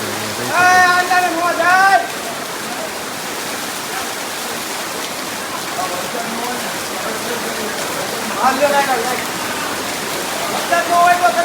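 Floodwater rushes through a street in Botad after heavy rain, a loud, steady roar that continues throughout, with people talking over it at the start and near the end.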